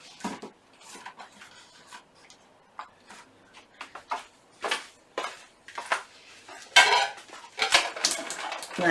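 Plain dishes with a small decorative rim clink and clatter against cutlery as a table is set, a steady run of close, sharp knocks and scrapes with brief pauses, growing busier toward the end.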